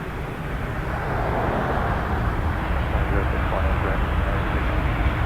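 An Air Canada airliner rolling for takeoff on runway 06 left at Toronto Pearson, a dense low engine rumble that swells after the first second and then holds steady and loud, with radio voices heard faintly.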